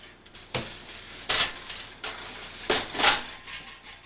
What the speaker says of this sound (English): All right, take the lid off our wort here.